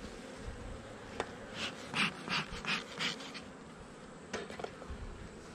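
Honey bees buzz around an open hive during an inspection, a soft steady drone with a run of louder pulsing buzzes as bees fly close by, and a few faint clicks.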